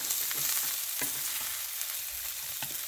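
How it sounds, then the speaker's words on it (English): Slices of Spam frying in a pan over medium heat, a continuous close sizzle and crackle with a few small pops, no voices. "You have to cook it until it's golden brown, like that, and then fry the other side."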